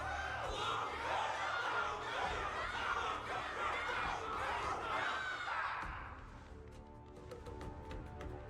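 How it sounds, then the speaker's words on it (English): A large crowd cheers and roars loudly for Luca after a battle in a video game, a dense sustained wall of voices that drops away abruptly near the end, leaving quieter ambient tones. "Can't you hear? Everyone's cheering for you"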